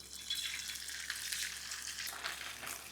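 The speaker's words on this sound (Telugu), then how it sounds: "సో ఒక్కొక్క పీస్ స్లోగా డ్రాప్ చేసుకుందాము ఆయిల్లో" Korrameenu fish pieces slide into hot oil and fry with a steady, hissing sizzle that swells and crackles for the whole stretch, close and fairly quiet.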